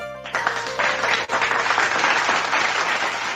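Applause from a small group during a Chinese-language livestream, a dense, steady patter of clapping that holds at moderate level for a few seconds with a brief dip partway through and no talking over it.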